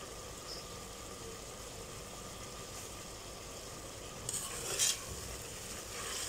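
Chopped coriander is stirred into a chicken curry in a pan, giving a soft, steady sizzle with a couple of brief louder scrapes near the end and no talking.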